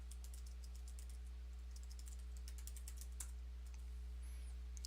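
Rapid key presses on a computer keyboard while writing a web config on Ubuntu, quick faint clicks in a steady run over a constant low electrical hum, no voices.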